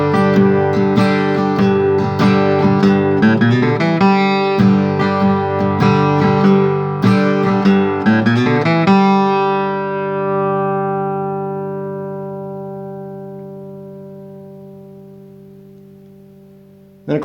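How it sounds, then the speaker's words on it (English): Bluegrass G run played on acoustic guitar: a quick run of bright plucked notes for about nine seconds, ending on a chord left ringing that fades slowly, with a short noise at the very end. "that could be seen as kind of the next variation of the G run, or the next evolution of the G run"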